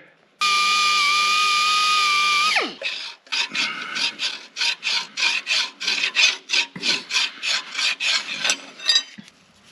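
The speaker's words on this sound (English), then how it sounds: "we're going to use a little bit more of an abrasive pad on here" An abrasive pad scrubs a repaired cracked engine block on a 1939 Caterpillar D4 crawler tractor, giving quick rhythmic rasping strokes, loud and close, after a short steady high-pitched whistling tone at the start.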